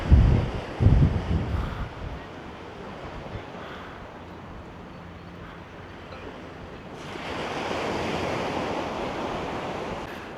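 Rough sea at Seaham Harbour, waves crashing against the harbour wall: a loud low surge at the start gives way to a steady broad wash of surf, with wind buffeting the microphone and a fresh swell of spray noise near the end.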